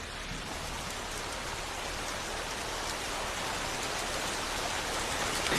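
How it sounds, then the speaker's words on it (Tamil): Steady rain pours down in an anime scene, a dense, even hiss of falling water that stays constant throughout with no voices. "இந்த மழை நிக்காது போல இருக்கே"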